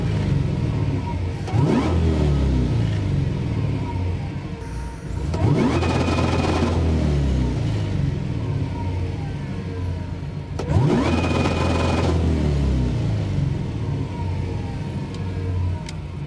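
A car engine revs hard in several bursts, each held at a steady high pitch against two-step launch control, then dropping back to a rumbling idle.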